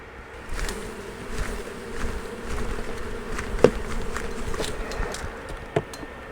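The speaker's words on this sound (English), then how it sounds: "these bees here have got to be from this hive, so I'll just shake them off, make them madder than hell" Honey bees buzz in a steady, dense hum around a frame pulled from a beehive, with a couple of sharper spikes as the insects are disturbed.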